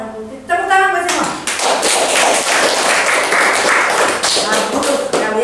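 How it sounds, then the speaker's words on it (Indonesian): A grade six classroom in Bandung breaks into dense, loud applause after a short voice. Many hands clap together continuously, with some knocking sounds mixed in. "Tepuk tangan buat semua."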